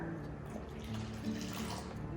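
Warm water runs steadily from a tap for sourdough bread dough, a soft, quiet continuous splashing flow.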